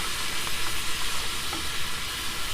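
Food steams and sizzles in a pan in a continuous loud hiss with faint stirring scrapes, no talk.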